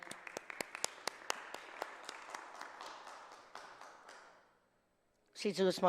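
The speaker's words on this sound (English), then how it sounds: "Can we give them a round of applause again?" Applause in a legislative chamber for the singers of the national anthem and Guam hymn: a smattering of sharp individual claps over a moderate patter that fades out, followed by a person beginning to speak.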